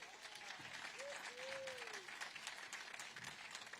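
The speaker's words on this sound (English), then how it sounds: "All right, round of applause for these three." Applause for riders at a SuperMotocross pre-race press conference in Las Vegas, a soft, distant patter of clapping held steady throughout, with a brief voice over it early on.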